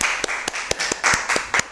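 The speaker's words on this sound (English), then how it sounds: "Let's give, first of all, the two candidates a round of applause." Sparse, uneven clapping from a small audience applauding two debate candidates at a youth debate session, a handful of distinct hand claps over a short stretch with faint background noise.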